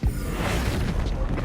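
Bombarda explosion spell cast in Hogwarts Legacy, a dense, loud rumbling blast with a sharp low-end thump at the start and sustained roiling noise afterward.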